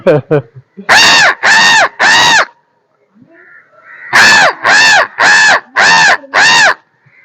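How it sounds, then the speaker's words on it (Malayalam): Loud crow caws in two bursts: three harsh calls, a pause with faint background murmur, then five more evenly spaced caws close by. "എല്ലാ കാക്കകളും എത്തിയിട്ടുണ്ട്"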